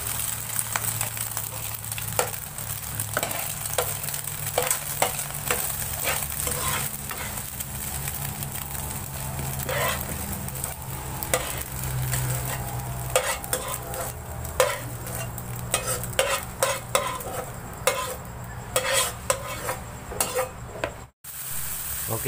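Chopped spices, tomato, shallot, garlic and shrimp paste stir-fried in a pan, a continuous close sizzle broken by scraping and clinking of the utensil against the pan, with no talking.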